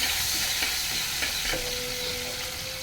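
Bitter gourd and prawns frying in a pan give a loud, steady sizzle with occasional stirring scrapes, close up and without talk.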